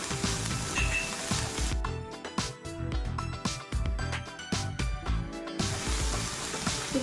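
Onion, garlic and chopped green chili fry in a hot pan with a loud, steady sizzle, broken by brief clattering stirs through the middle before the even hiss returns.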